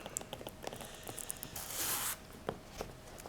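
A sheet of paper, already folded three times, is creased a fourth time with quiet, close crinkles and taps, then a longer scraping rustle and a few final soft presses.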